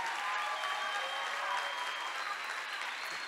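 Sustained applause from a graduation ceremony audience, even and steady throughout at moderate level, a dense wash of many hands with no distinct voices.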